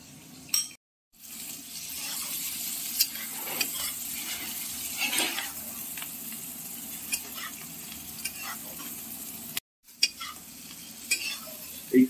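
Catla fish fat and roe sizzle steadily in hot oil with onion, garlic and chili while a spatula stirs and scrapes the pan, with occasional clinks of utensils and two brief dropouts.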